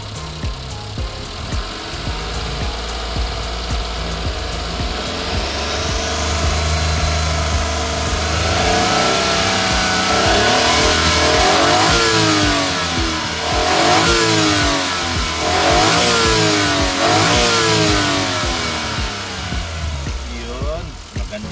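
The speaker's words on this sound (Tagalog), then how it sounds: "I-try natin i-revolusyon kung good engine kung walang sabit, walang lagatak, walang knocking." A Suzuki DA17V van engine with automatic gearbox is revved to check for knocking, rising from a mid idle into repeated loud revs and dips, close by, with someone speaking over parts of it.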